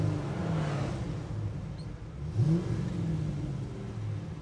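A 1966 Pontiac GTO with a very powerful engine drives along a road, its motor rumbling in a low, steady drone that rises briefly as it accelerates, heard from inside the car.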